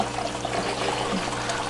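Water pouring and trickling steadily into an aquaponics tank, a close continuous splashing flow that holds the whole time.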